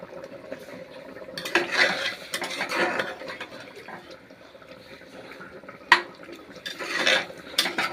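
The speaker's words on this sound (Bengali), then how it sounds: "মাংসটা এখন টকবক করে ফুটছে" Meat curry simmers and bubbles in a pot while a metal spoon stirs and scrapes against it, irregular clanks and wet sloshing bursts over a soft bubbling background, close by.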